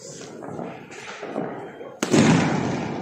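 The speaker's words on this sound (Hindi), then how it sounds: "चला रहे पटाखे" Firecrackers set off during Diwali celebrations, heard as a sudden sharp bang followed by crackling bursts and rumble amid background chatter and ongoing festive noise.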